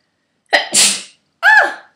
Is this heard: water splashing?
no